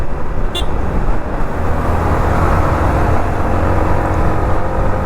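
A motorcycle overtaking traffic on a hill road, heard as loud steady engine and wind roar with passing vehicle noise and a short early toot, close and continuous, with no talking.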